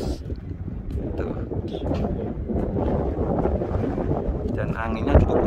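Strong wind blasts across the open plain of Arafah, buffeting the microphone with a steady loud rumble throughout, with faint voices and a brief gust peak near the end.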